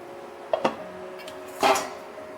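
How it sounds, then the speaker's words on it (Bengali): A metal lid lifted off a pot of rice that has been simmering covered on a low flame, giving a couple of light clanks followed by a brief scraping clatter, close and fairly quiet. "আমি এবার ঢাকনাটা খুলে নেব।"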